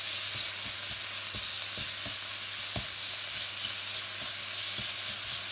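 Meat seared in a hot frying pan for a sandwich filling, a steady loud sizzle with repeated scraping knocks of a wooden spoon stirring it.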